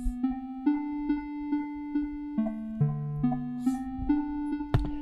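A simple synthesized melody from Chrome Music Lab's Melody Maker at 70 beats per minute, about one clear note per beat, stepping through different pitches, plays alone with no talking.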